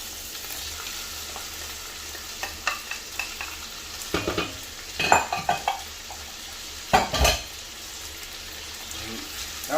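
Beef and pancetta sizzle steadily in a pan for Bolognese, with scattered clinks and scrapes of a utensil stirring and breaking up the meat, bunching into louder bursts partway through.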